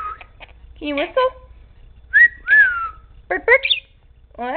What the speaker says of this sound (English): Oh, that's a little bird. Sound like the parakeet.